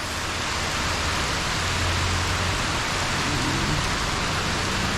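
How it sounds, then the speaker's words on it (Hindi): Steady, dense morning rain on a highway near Gangtok, in the Himalayas, hisses continuously, an even wash of falling drops with no pauses or voices. "बारिश"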